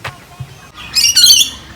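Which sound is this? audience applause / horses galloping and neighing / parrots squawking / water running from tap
parrots squawking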